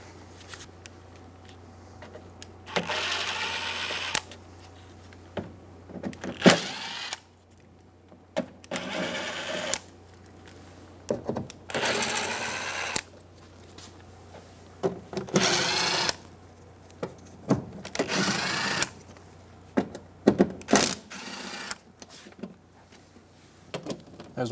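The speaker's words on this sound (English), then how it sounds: "Using a 7mm socket, we're going to go around and remove all 10 bolts around the outside." Power driver with a 7mm socket backing out door panel bolts on a 1988-1999 GMC K1500 truck, loud whirring bursts of a few seconds each repeated about ten times, separated by short pauses.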